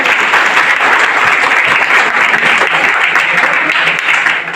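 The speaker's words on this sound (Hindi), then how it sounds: "ताली अपने लिए जोर।" Loud, continuous applause from a seminar audience at a network marketing business event, a dense, close crowd of clapping hands that holds steady across the whole clip without pause.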